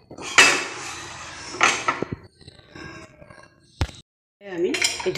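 Cake pan of caramel cake batter tapped on a surface in the kitchen, a few sharp metallic clanks and rattles in separate bursts with short pauses, close and moderately loud.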